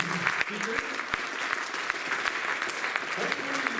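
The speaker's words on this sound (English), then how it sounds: "a big applause for 4 main speakers" Audience applause fills a conference hall at the close of a panel discussion, a steady, fairly quiet wash of clapping with some sharper individual claps throughout.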